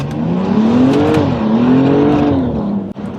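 A BMW M235i engine drones loudly and steadily while driving, its pitch rising and falling as the revs climb and ease, close and continuous throughout with a brief dip near the end.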